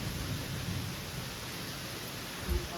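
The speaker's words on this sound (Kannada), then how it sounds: "ನೋಡಿ ಜೋರಾಗಿ ಮಳೆ ಬರ್ತಿದೆ," Heavy rain pours down in a steady, dense wash of noise, with a low rumble near the end of the clip that may be distant thunder, and no voices heard.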